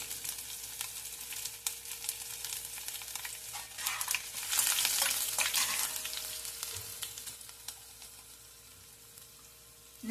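Crushed garlic cloves sizzle in hot oil in a pan while mango rice is being made, a steady broadband frying hiss that swells louder midway and then settles, with no talking.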